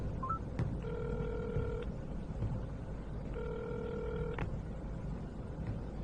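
A telephone rings in two long electronic bursts separated by a pause, over a low background hum.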